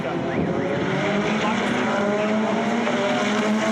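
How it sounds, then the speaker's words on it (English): Race cars in a GTC National Series round at Red Star Raceway roar in a dense, continuous engine drone as the race gets under way, with a commentator talking over it. "As they hit the lights in the first of 10 laps at pace, it was Ferrari and Volk who were tying one"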